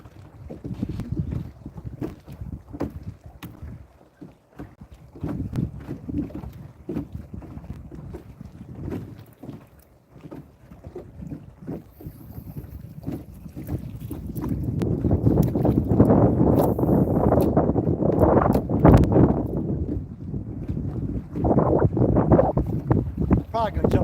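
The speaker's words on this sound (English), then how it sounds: "this is so windy here" Steady wind buffets the microphone on a lake during bass fishing from a boat, a constant low rumble that swells louder in the second half, with people talking throughout.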